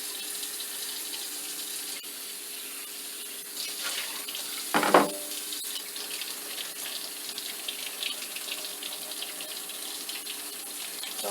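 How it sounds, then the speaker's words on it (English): Tap water runs steadily into a sink while flour is washed, a soft continuous stream with a brief louder splash partway through, no voices. "I'm going to wash the flour, and I'm going to do that many times"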